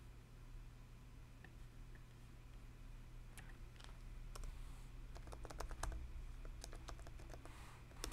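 Typing a flow name on a computer keyboard: quiet, fairly close key clicks in irregular clusters over a steady low hum, without any talking.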